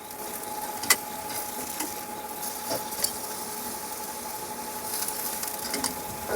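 Meat sizzling over offset coals on a hotbox barbecue as it gets flipped, a quiet steady crackling hiss with a couple of faint sharp ticks, no voices.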